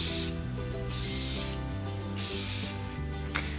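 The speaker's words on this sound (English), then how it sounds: "I'm just going to quickly go over it with some VO5 Stronghold weather resistant hairspray" VO5 Stronghold weather resistant hairspray is sprayed onto curled hair in three short hissing bursts over steady background music.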